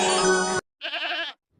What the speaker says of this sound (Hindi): अरे, यह तो बकरी के चिल्लाने की आवाज है,